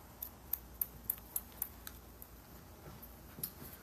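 Scissors snip dry hair in a quick run of six or seven faint, crisp clicks while a graduated bob is being cut, followed by a lone snip after a short pause.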